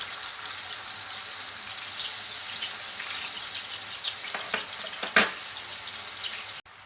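Pork chops sizzling in a pan over a high flame, a steady soft frying hiss with a few brief clinks and scrapes near the end.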